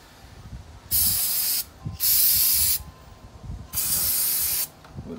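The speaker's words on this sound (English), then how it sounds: "I'm going to use the Detroit Axles non-chlorinated brake parts cleaner" Three separate bursts of non-chlorinated brake parts cleaner spray, each a steady loud hiss lasting under a second, with short pauses and faint handling noise between them.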